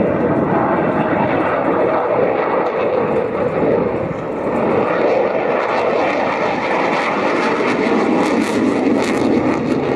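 A Czech JAS 39C Gripen fighter jet flies its display at RIAT, a loud, continuous, broadband engine roar that holds steady for the full stretch, with no voices.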